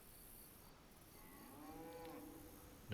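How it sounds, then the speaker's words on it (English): In the DayZ video game, a cow moos once at a distance, a faint low drawn-out call rising over quiet ambient hiss, followed by a sudden loud thump at the very end. "See what I mean about the cow?"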